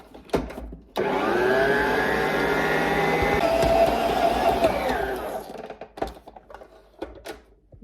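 An electric mixer whirs steadily for about five seconds while blending manala dough ingredients, starting abruptly and then winding down, with clinks and knocks against the bowl before and after.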